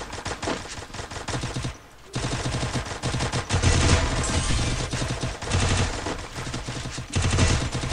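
Rapid bursts of gunfire from the battle royale video game Free Fire, loud and continuous with short pauses between volleys, layered over game sounds with no talk.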